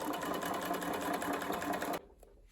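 Sewing machine running steadily while stitching a doll's dress with a back stitch and a seam around the edge, a continuous close mechanical whir that stops abruptly near the end.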